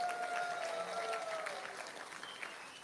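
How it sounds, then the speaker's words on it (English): Applause from guests at a wedding celebration, a fairly faint, steady wash of clapping that fades slightly toward the end, with a voice briefly audible over it. "Give them a round of applause"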